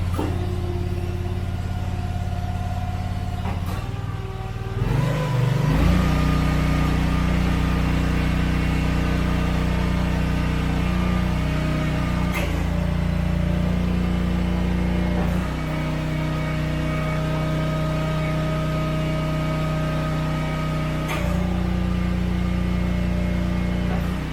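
Wolfe Ridge 35 SHO engine #1000 running at a lower throttle setting, a loud close steady drone with slight pitch shifts and brief changes in tone, with no speech.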